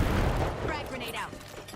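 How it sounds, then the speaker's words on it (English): Grenade explosions in the shooter game The Finals: a short, dense burst of booming blasts and rumbling debris that fills the moment without a clear break. "Someone's firing grenades at me."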